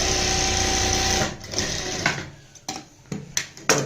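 An electric sewing machine runs a fast continuous stitch along a Punjabi kurti, then stops and starts in short bursts, loud and close with no voices.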